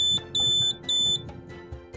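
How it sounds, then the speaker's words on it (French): The audible alarm of a buddy lite portable blood and fluid warmer gives three high, shrill beeps at a steady pace, with a faint hum in the gaps between them. "une alarme sonore se déclenche"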